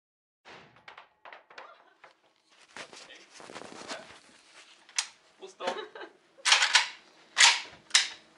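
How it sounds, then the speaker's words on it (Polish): A rapid string of sharp gunshots, loud and close, firing in quick succession with voices talking between them at an outdoor range. "To było 10 strzałów. Szybko, prawda?"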